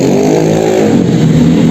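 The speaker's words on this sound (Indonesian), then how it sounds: "anak-anak muda yang sudah bikin keributan dengan knalpot bising" Loud, close revving of a vehicle with a noisy exhaust in Manado, Indonesia, a harsh continuous roar with no voices.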